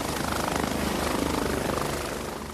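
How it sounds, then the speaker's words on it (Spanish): A helicopter flies overhead with a loud, near, steady rotor chop and engine roar that fades slightly at the end. "el helicóptero lo sobrevoló en el momento justo"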